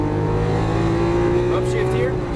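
A Lamborghini Aventador LP700-4 accelerates down a track straight, its loud, close engine droning steadily with a slight upward pitch as a voice talks over it.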